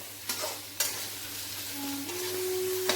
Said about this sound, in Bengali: ঢাকাটা খুলে গ্যাসের আঁচটাকে বাড়িয়ে ভালো করে নাড়াচাড়া করব।